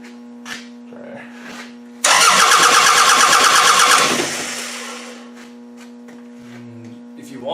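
A Toyota Camry fitted with a carburetor and a hot-wired distributor fires up with a sudden loud roar, runs hard for about two seconds, then fades back down, all over a steady electrical hum.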